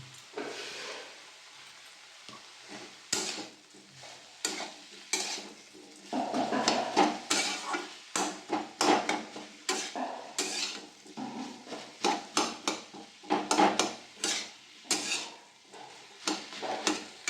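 Fish oil cooking in a pan for a fish oil dish, with a steady sizzle and frying hiss under repeated clinks and scrapes of a utensil stirring against the metal, close and fairly loud.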